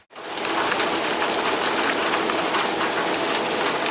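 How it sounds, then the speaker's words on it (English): Steady rain pours down outdoors beside a backyard pool where ducks are kept, a loud, dense, continuous hiss that holds at an even level from start to finish with no voices. "the rain is just starting to slow down"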